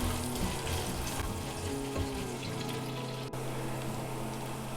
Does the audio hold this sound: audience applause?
no